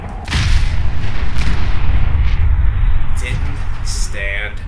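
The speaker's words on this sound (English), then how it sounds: "you know what else has found you? These nukes." A nuke explosion in the game Fallout 4, a loud sustained low rumbling boom that rolls on for several seconds, with a few sharp crackling effects near the end.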